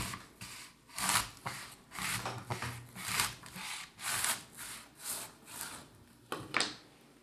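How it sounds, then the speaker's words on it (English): A knife saws back and forth through an apple on a cutting board, giving about a dozen close, rhythmic rasping strokes that are fairly quiet and have no talking over them. "I can saw back and forth to slice through the apple"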